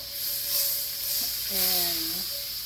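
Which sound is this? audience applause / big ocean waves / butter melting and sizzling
butter melting and sizzling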